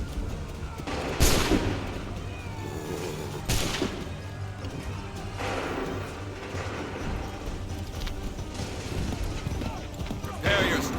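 Musket volleys in Assassin's Creed 3: two sharp, loud massed bursts about two seconds apart, then scattered further shots and a crash under battlefield commotion, with shouted commands from soldiers.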